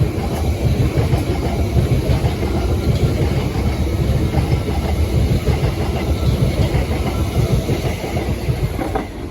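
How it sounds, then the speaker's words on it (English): A Southeastern Class 377 electric train, two units coupled and running out of service, passes near Wandsworth Road in London, a steady loud rumble with rhythmic wheel clatter throughout and no talk. "the next train to pass by will be a Southeastern 377."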